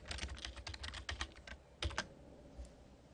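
Someone types on a computer keyboard, producing quick irregular runs of faint, close clicking keystrokes with short pauses between bursts and no voices.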